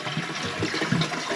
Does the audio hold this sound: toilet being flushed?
yes